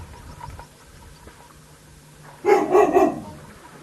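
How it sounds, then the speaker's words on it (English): A dog barks in the background near a wildlife waterhole, giving a quick burst of three or four barks after a stretch of faint ambient noise. "Sorry, please excuse my dog barking in the background."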